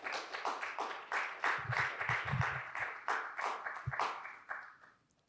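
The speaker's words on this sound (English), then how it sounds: "Please, a round of applause to the staff as well." Audience applause for the event staff at a RIPE NCC Days conference in Chisinau: a moderate patter of hand claps that holds steady for a few seconds, then thins out and stops.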